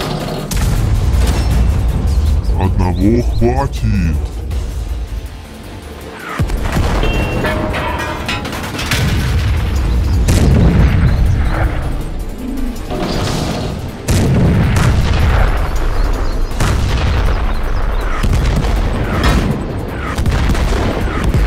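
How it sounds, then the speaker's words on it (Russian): Repeated loud booms and volleys of cannon fire from many barrels in an animated battle against a Soviet steel monster, dense overlapping blasts over the full stretch with brief crashes, and a short spoken line in the middle. "Огонь из всех стволов."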